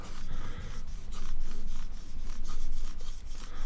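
A Helle Nord knife is sharpened freehand on a stone, with steady rhythmic rasping strokes sweeping back and forth, close and fairly loud, without any talk.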